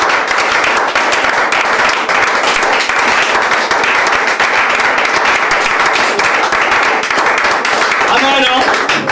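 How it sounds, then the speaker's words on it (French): A church conference audience applauds and cheers for the King of Kings in a sustained, dense wash of clapping that fills the hall steadily from start to finish, with voices mixed into the crowd noise. "je te prie d'acclamer pour le roi des rois"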